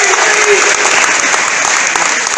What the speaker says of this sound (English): Let's hear for Bill, baby. Cheer us.